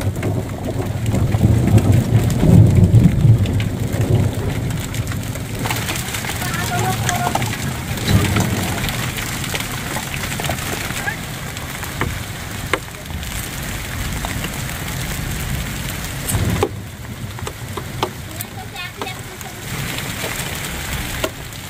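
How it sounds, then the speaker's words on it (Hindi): Heavy monsoon rain pouring down at a rural house in India, a dense steady hiss with a few sharper cracks and rumbles, and a voice occasionally audible under the downpour. "और देखिए कितना जबरदस्त बारिश हो रहा है"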